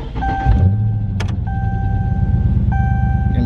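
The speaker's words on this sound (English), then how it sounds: "Let me turn this car on" A car is switched on, with a steady loud low engine hum alongside high electronic chimes and a sharp click partway through, heard from inside the vehicle.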